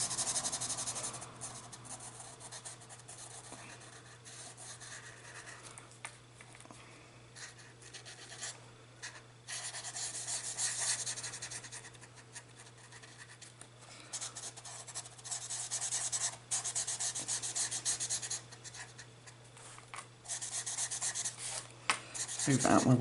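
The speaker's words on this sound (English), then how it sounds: "So I've got my mango marker and we're going to switch sides and use the chisel tip." Chisel tip of a marker dragged across paper while colouring, a steady close rubbing and scratching with short pauses and strokes, no talk, faint background hum throughout.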